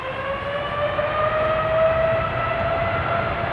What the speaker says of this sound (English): The Saudia Dreamliner underway.